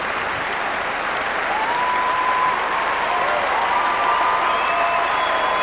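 Crowd at the 1998 Wimbledon final applauding champion Jana Novotná, a sustained, even wash of clapping throughout.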